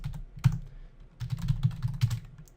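Computer keyboard typing while writing code: a single sharp keystroke, a pause, then a steady run of close clicks and key taps.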